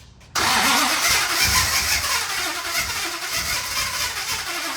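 A 1970 Datsun 510 engine cranks and fires with the choke shut and no throttle, bursting in abruptly after a quiet moment and settling into a loud, rough, pulsing idle close by.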